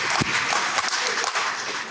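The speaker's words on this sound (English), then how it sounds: "So would y'all please give them a round of applause now that they are in the chamber." Applause fills the Mississippi House chamber, a loud, dense wash of many hands clapping steadily throughout.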